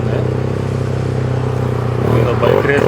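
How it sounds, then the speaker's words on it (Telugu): Traffic noise from a row of motorcycles idling at a signal in Phuket Old Town, Thailand: a steady engine drone that swells slightly near the end, with a voice talking faintly over it. "నా పక్కన ఇప్పుడు వరుస బైకులు ఉన్నాయి."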